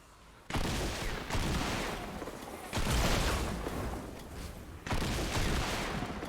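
The Old Smokey shotgun fires in Fortnite: Save the World while clearing husk crowds: three heavy blasts, each struck sharply and trailing off into a long rumbling decay, with no talk over them.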